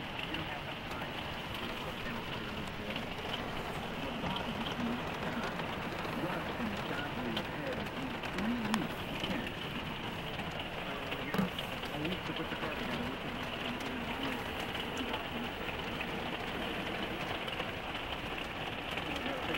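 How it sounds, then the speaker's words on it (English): Steady rain falls on hard surfaces, a dense, even hiss of drops that continues without a break from start to finish. "Please stop the rain."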